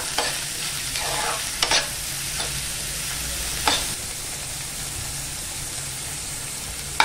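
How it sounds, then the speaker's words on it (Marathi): Chopped onion and green chili sautéing in hot oil in a pan, with continuous close sizzle and a few sharp scrapes and clinks from stirring at intervals. "आता आपण यात कांदा टाकून घेऊया आणि ओली मिरची पण टाकूया"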